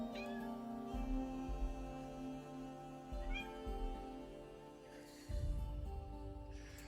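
A pet cat meows indoors several times, distinct nearby calls at a quiet level over a soft background hum, with a thump near the end.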